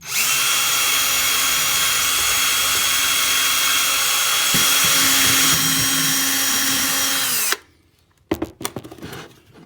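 A power tool polishes a one kilo silver bar, giving a loud, steady high whine and grinding hum for about eight seconds before it cuts off, followed by a few quiet handling knocks.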